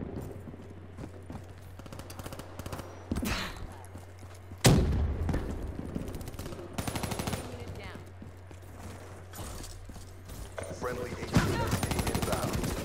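Gunfire in a multiplayer shooter game: rapid automatic bursts and single cracks scattered throughout, one sharp loud shot standing out midway, mixed with footsteps and a player talking over the action.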